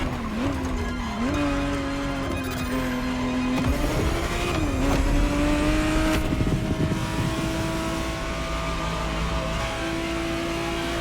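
A 1991 Ferrari 512 TR Testarossa in the video game The Crew Motorfest holds a steady, loud engine drone, its pitch climbing and dipping as it revs and shifts, with a brief tire squeal partway through and no talking.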